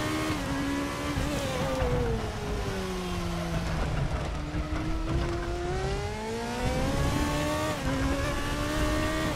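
A race car in Raceroom Racing Experience at the Hungaroring accelerates out of the pit lane, its mid-pitched engine revving up steadily through the gears, loud and close with a faint tire squeal.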